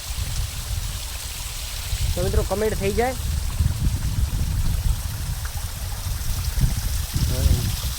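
Rain-swollen river water flowing steadily as a broad, continuous rush close by, with someone talking over it for part of the time.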